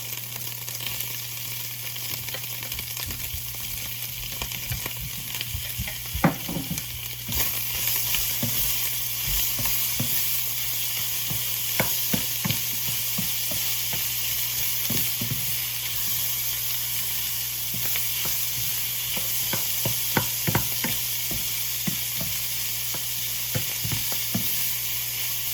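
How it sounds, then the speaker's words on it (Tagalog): Chopped tomatoes and ground meat fry in a pan with a constant bright sizzle, punctuated throughout by scattered spoon taps and scrapes as the mixture is stirred, close and steady. "habang niluluto natin yung kamatis at yung giniling"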